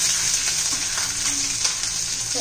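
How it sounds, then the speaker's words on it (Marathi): Finely chopped long-cut garlic frying in hot oil for veg Schezwan fried rice, a steady, close, bright sizzle that runs unbroken for a couple of seconds with no voices. "भरपूर असा लसूण घालायचा आहे बारीक चिरलेला"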